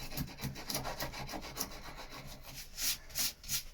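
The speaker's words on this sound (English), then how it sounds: "This will be sanded now. Sand that back flat." Hand sanding a filled patch flat on a surface gives quiet, rhythmic rasping strokes, one after another, that grow stronger and faster toward the end, with no voices.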